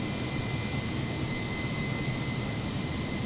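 Airbus A320neo jet climbing out of Brisbane in a flight simulator, a steady broad roar of engine and air noise with a faint high whine, constant and unbroken.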